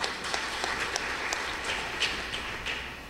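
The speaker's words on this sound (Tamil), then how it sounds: "அவருக்கு ஒரு கைத்தட்டு கொடுங்க" An audience at a Tamil pattimandram comedy debate applauds a speaker, a soft, steady patter of many hands clapping at a distance, continuous and even.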